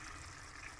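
A glass of water poured into a pot of pasta and potatoes, a steady close wash of running liquid that fills the whole moment without pause.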